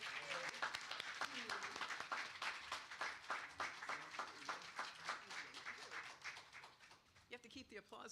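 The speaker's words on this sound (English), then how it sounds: "You have to keep the applause going till I get to the mic." Warm applause from a church congregation at a Sunday celebration welcomes a reverend to the stage, steady dense clapping that thins and fades toward the end as a voice begins speaking.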